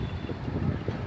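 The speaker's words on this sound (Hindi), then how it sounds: "ठंडी ठंडी हवा चल रही है" Cool breeze rushing past a cyclist riding home through town on a hot, sunny day, a steady low roar of wind buffeting the microphone without a break.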